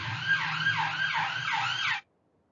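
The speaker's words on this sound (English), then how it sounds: "the police car was a bit too close to the office" A police car siren wailing in a rapid, rising-and-falling cycle close to an office building, loud and steady for about two seconds before abruptly stopping.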